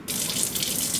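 Water from a kitchen faucet runs in a steady, close splashing stream while raw chicken is rinsed under it for a garlic herb chicken dish, with no voices.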